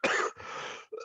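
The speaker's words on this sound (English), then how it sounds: "I'll mute myself next time I cough" A single short, harsh cough followed by a rough throat-clearing exhale, close and fairly loud.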